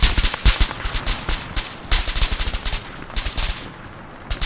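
Light machine gun fire rages in an Arma 3 Apex guerrilla fight on Tanoa, with dense overlapping bursts and sharp cracks, loud and close, sustained throughout.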